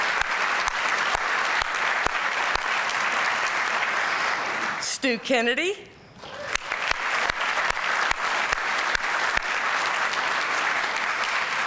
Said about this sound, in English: Let's do a round of applause for Ambassador Ridgway.